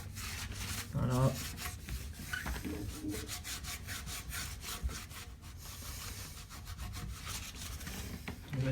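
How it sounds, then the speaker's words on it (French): Scraping against a surface while a toilet tank is replaced, a steady rough rasping with repeated strokes throughout, fairly close and fairly quiet. "On va gratter dans les grandes lignes."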